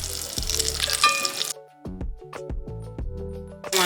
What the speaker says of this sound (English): So I'm getting ready to put the quinoa burger in there.